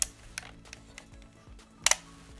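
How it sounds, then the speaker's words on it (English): The leaf shutter of an Olympus XA film camera fires with a tiny, faint click, a few soft mechanical ticks scattered through a quiet room, the sharpest near the end. "Check out how quiet the shutter is on this."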